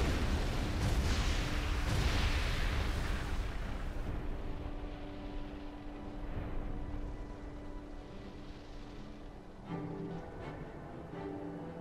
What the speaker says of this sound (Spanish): La roca se abre con una explosión de guijarros y arena